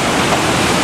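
Flooded river water roaring over a damaged waterfall beside flooded woods, a loud, dense, continuous rush close by with no voices.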